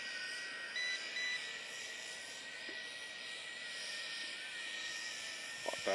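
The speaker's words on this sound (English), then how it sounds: "So it's a lot bigger drone." A JJRC H16 Tarantula X6 hexacopter drone flying outdoors in wind: a steady, faint high-pitched motor whine holds throughout, distant and continuous, with no talking.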